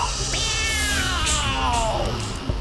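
A cat meows in a long, drawn-out, falling wail with a rough caterwauling edge, close and clear, while a person speaks faintly in the background.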